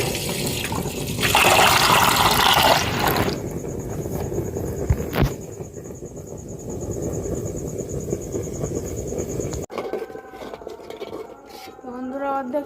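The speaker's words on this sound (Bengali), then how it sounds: "এখন দুধটা ঢেলে নেব সব, পুরো 1 লিটার দুধ সব আমি দিয়ে দেবো।" A litre of milk is poured into part-cooked rice for payesh, heard as a loud liquid gush for a couple of seconds, followed by quieter pot and kitchen sounds.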